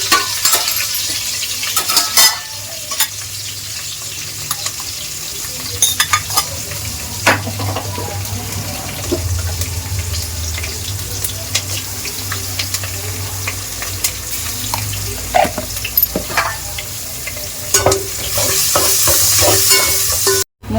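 Onions frying in a pan with ginger garlic paste and a pinch of turmeric for paneer curry, a steady close sizzle broken by repeated spoon scrapes and stirring clatter, swelling louder near the end.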